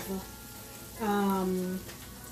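Garlic cloves, a knob of ginger and onion slivers hit a hot wok in a beef and broccoli stir-fry, a sudden sizzle that swells for under a second, then drops back to a low hiss.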